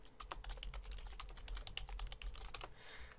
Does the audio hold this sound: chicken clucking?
no